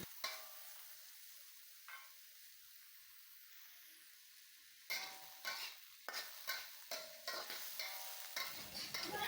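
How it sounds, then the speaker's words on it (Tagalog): Sliced onion frying and being stirred in a pan while cooking fish in coconut milk, with faint sizzling at first, then a run of louder scraping stirs and steady sizzle toward the end; no talking. "Maglagay na rin tayo ng hiniwang sibuyas. Lutuin lang natin ito ng 1 minuto."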